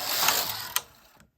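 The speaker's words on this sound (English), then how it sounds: "Return the carriage to the right." Silver Reed SK150 bulky knitting machine carriage sliding back across the needle bed, a broad mechanical whir with a sharp clack near the end of the stroke before it stops.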